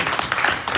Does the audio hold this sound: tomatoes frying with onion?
no